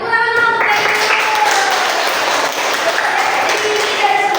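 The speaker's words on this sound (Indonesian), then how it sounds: "Tepuk tangan dulu untuk Kak Ibu" Classroom applause for a classmate, brisk clapping from a group of students that carries on steadily for a few seconds.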